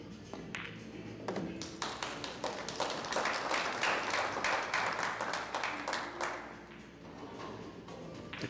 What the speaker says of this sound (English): The crowd is appreciating.